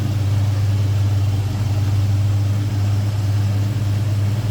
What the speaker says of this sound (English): AC compressor does kick on and off.